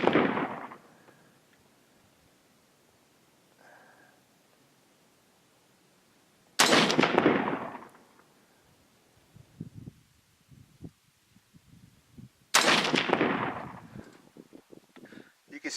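Three loud rifle shots firing .223 FMJ rounds at a range, each a sharp crack followed by a fading echo, spaced about six seconds apart with quiet handling noises between them.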